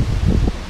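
Strong wind on a dry-season hill trail near a freshly fallen tree, rustling leaves in a steady, close, fairly loud rush with gusty swells and no voices.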